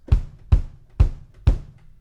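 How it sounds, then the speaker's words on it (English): Four deep kick drum thumps hit at an even, moderate pace, each short and punchy with a quick decay, alone and close. "We're going to have our kick, which is down here."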